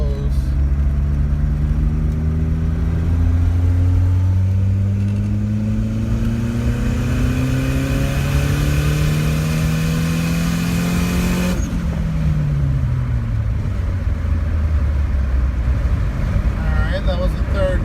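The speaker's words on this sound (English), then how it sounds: "And we'll walk into some boost, third gear, just so you can see" A Mitsubishi Starion accelerates hard in third gear under turbo boost, engine pitch climbing steadily for about eleven seconds before easing off as the revs fall, all under constant loud cabin and road roar.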